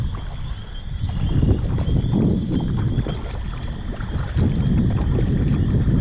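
A Bell Magic solo canoe is paddled with a kayak paddle on open water, with soft repeated strokes and water sloshing under heavy wind buffeting on the microphone.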